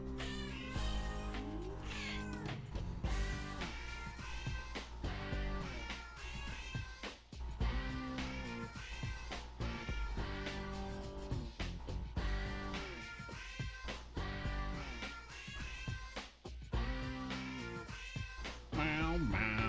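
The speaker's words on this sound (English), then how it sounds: "Meow, meow." Cats in the video game Jingle Cats meow over a busy musical backing, with repeated short meows and caterwauls strung into a tune, loud and continuous with no talking.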